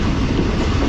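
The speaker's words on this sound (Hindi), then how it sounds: "तो कुछ इस तरह की स्पीड में ट्रेन हमारी आगे बढ़ रही है धावेजी रेलवे स्टेशन की तरफ" The Shalimar Express running at speed on rails, a loud, steady rumbling roar with wind noise, heard in a brief continuous burst.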